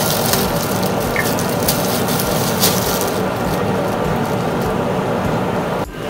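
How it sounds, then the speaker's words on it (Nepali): Water runs steadily from a tap in a home kitchen, a loud continuous gush that holds for several seconds before a brief clunk near the end, with no talking. "ये पानी निस्कियो"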